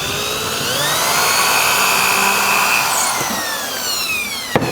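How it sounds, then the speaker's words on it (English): A power drill pre-drills holes into wood along a rabbet, a loud continuous whining drone with shifting pitch that runs several seconds before stopping with a small knock. "So I'm going to pre-drill some holes, making sure I hit the wood on the Rabbet."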